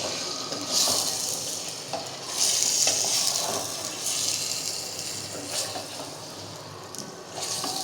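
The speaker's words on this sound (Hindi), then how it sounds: "बिल्कुल इसको हम हल्की आंच पे फ्राई करेंगे," Chicken pieces frying on low heat for a korma, a steady soft sizzle with periodic stirring scrapes and brief bursts of louder crackle, close and alone without talk.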